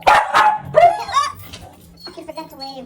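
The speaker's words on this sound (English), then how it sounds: "Dogs!" Several dogs bark in quick bursts, loud and near, amid festive holiday shouting as people call out greetings together.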